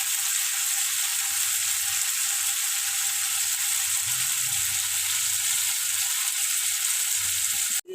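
Spices sizzling in hot oil in a pan while being sautéed for a vegetarian soybean dish, a steady loud crackling hiss throughout with occasional soft stirring scrapes and no talk.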